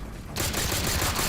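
Rapid rifle gunfire in Halo 4 breaks out after a short lull, a loud burst of closely spaced shots running steadily to the end.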